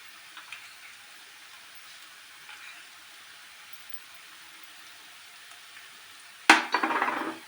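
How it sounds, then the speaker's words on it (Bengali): Poppy seeds drop into hot mustard oil and are stirred, giving a sudden close burst of sizzling and crackling near the end after a long, nearly silent stretch. "এই চামচের 3 চামচ পোস্ত দিলাম, দিয়ে পোস্তটাকে আমি তেলের মধ্যে একটু নেড়ে"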